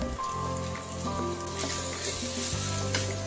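Fried rice with mixed vegetables and soy sauce sizzles steadily in a pan while being stirred, a dense crackling hiss with a faint low hum beneath and no talk.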